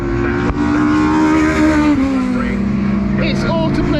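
A race car on a flying lap at an Anglesey circuit time attack final roars steadily at high revs, its engine note sliding down and shifting, loud and close with a commentator talking over it.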